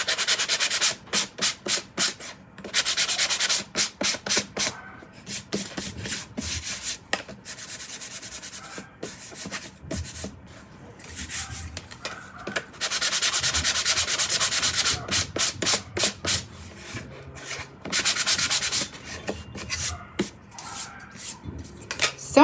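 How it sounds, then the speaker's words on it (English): A sanding block is rubbed by hand over a small painted piece, giving rhythmic dry scraping strokes in bursts, some quick and choppy and others long and continuous, close up with short pauses between. "now I'm actually gonna sand this a little"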